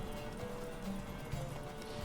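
Horse hooves galloping in a horse race in Witcher 3, a steady, faint clip-clop rhythm under a low background hum.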